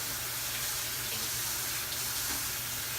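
A kitchen tap runs steadily for hand washing, producing a continuous, even hiss of water into a sink with no talk over it.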